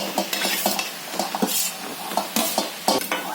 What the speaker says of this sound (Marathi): मी आता गाजर टाकते पीस गाजर पीस आहे ना तुपामध्ये हे फ्राय करून घेते चांगलं आधी